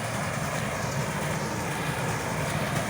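Claas Kosmos combine harvester threshing soybeans at the end of the harvest, giving a steady, dense mechanical roar with a low engine rumble and broad rushing noise, loud and unbroken throughout, with no voices.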